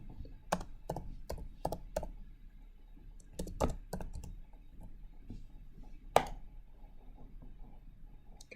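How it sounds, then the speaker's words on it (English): Irregular, close-up keystrokes on a computer keyboard while drafting in AutoCAD: clusters of crisp clicks with short pauses, and one noticeably harder keypress near the end, against a faint steady background hum. "So I can type in here boundary."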